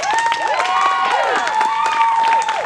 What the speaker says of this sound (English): Round of applause for Chrissy.